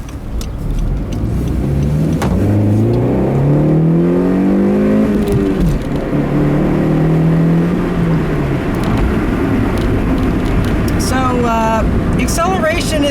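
A 2012 Honda CR-Z manual hybrid accelerating hard, engine rising in pitch through the gears with audible shift dips, heard from inside the cabin and fading into road noise near the end.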